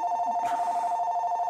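A telephone rings with a steady electronic tone at home, a continuous loud ring that stays close and clear with no talk over it.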